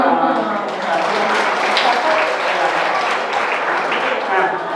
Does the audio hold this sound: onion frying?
no